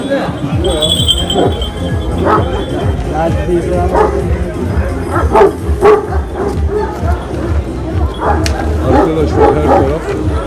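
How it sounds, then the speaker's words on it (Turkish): Several Kangal dogs (Anatolian Shepherd Dogs) bark and yip repeatedly in irregular bursts, close by, with people chattering in the background at a breed standard competition. "köpekler var"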